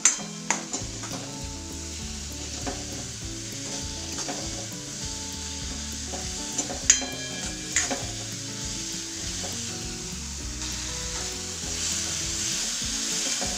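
Onion filling with salt sautéing over medium heat in a pan for mixed-dal parathas: a steady, continuous sizzle with occasional light stirring knocks, under a tonal background.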